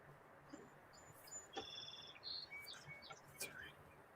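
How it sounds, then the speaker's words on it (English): Faint, sparse bird chirps come from outdoors through open sliding doors, a few short tweets and trills over a quiet background with a soft insect-like hum. "I hear birds chirping in the background"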